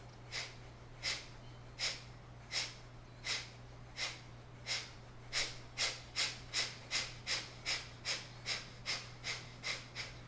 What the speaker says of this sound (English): Finish with some Kapalabhati breath, forceful exhales.